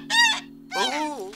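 A goose honks twice in quick succession, with loud, nasal, close calls and a brief gap between them. A steady low hum runs beneath the honks, which sound like a cartoon.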